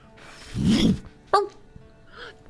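A dog gives one short, sharp bark after a low growling whine, nearby on a work site, with a faint yip following; no speech.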